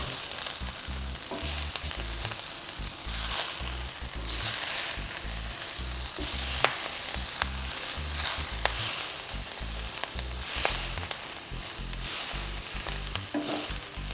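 Spinach and fresh herbs sizzle and fry in a pan for breakfast galette, stirred steadily with scraping, clacking strokes over a constant frying hiss, close and moderately loud, with no voices.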